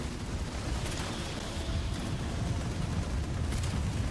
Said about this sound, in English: It is with artillery.